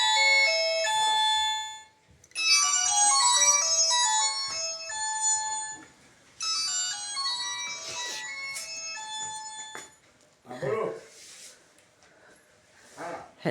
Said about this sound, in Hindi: सॉरी, किसी का फोन आ गया।